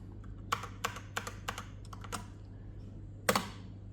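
Computer keyboard typing, including spacebar and enter key presses, a handful of sharp close clicks spaced irregularly over a low steady hum, one louder final keystroke, no speech.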